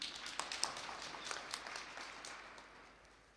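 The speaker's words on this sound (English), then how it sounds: "Can we please clap for the Minister?" An audience in a regional ministerial business meeting applauds the Minister, producing a dense patter of many hands that is moderately distant and fades out over a few seconds.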